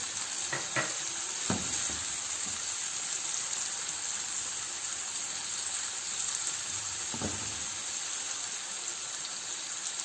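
Finely chopped tomatoes, two medium ones, fry in a pan for mixed dal, a continuous hiss of sizzling broken by a few brief utensil knocks and stirring scrapes.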